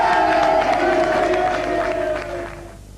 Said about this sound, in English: Give A class a big round of applause